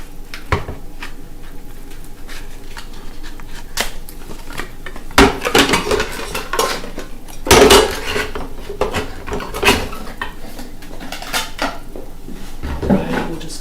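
New cooking pots are unpacked and handled, with repeated metallic clanks, knocks and rattles of cookware at close range, some louder bangs among lighter taps and rustling.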